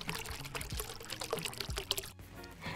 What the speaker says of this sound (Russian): Теперь заливаем наши яблоки с пряностями водой и ставим на плиту.